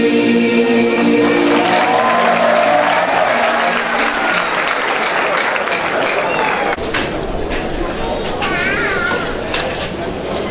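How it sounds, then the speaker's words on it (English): Ceremonial audience applause for children at a Federal University of Technology Minna inaugural event, a broad sustained clatter of many hands, with a fading musical tone early on and scattered voices within the crowd. "Please let's give these children a wonderful round of applause."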